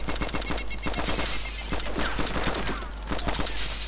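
Gunfire at a building in DayZ, a continuous string of rapid shots with sharp repeated cracks and some shattering, loud and steady throughout with no talk.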